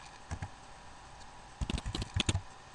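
Short bursts of typing on a computer keyboard, a few isolated key taps followed by a quick cluster of clicks, quiet and close with no voices.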